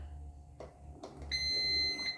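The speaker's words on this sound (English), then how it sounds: "It's going to beep." A bread machine that has just been plugged in gives a faint electronic beep, a short high tone over low background hum.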